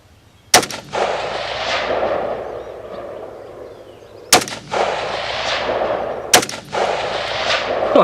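Three loud, sharp rifle shots from a Ruger Precision rifle at an outdoor long range shooting session, each crack followed by a long rolling echo, spaced a few seconds apart.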